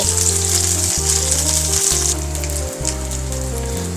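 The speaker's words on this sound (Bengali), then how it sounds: "আমি এরকমভাবে চুলার মধ্যে সবগুলোকে 10 মিনিট ভেজে নেব" Bottle gourd leaf fritters with dried fish frying on a stove give a steady, close sizzle of hot oil that stays loud and even throughout, with faint low musical tones playing underneath and no voice.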